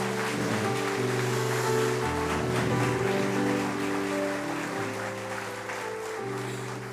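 A church congregation applauds members standing at the front during a completion ceremony, dense continuous clapping over sustained instrumental music throughout.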